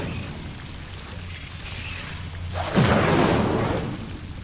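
A fiery Incendio spell is cast in the Hogwarts Legacy video game, giving one sudden whooshing burst that flares up loud and then trails off over a low background hum.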